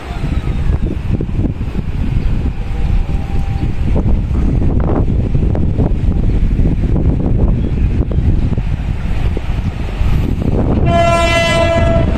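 Tawang Alun passenger train on the Ketapang–Malang route, hauled by locomotive 9211, rumbling loudly past at a station with heavy wind buffeting, then a long, close horn blast near the end.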